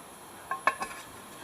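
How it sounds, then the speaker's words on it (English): A bacon and mushroom risotto simmers on a Trangia stove while a spoon stirs it, giving a few brief scrapes and clinks against the pot over a quiet background. "Keep giving it the occasional stir."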